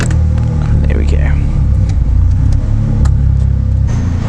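A neighbour's vehicle revs its exhaust nearby, giving a steady loud low rumble with small surges, heard where a Honda CTX700 motorcycle is being worked on.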